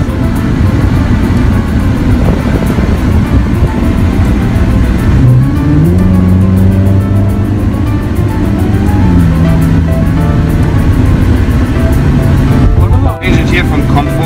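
A Ferrari sports car driven fast through Dubai, its engine a steady close-up drone that rises in pitch partway through and then settles, with people talking inside the cabin over it.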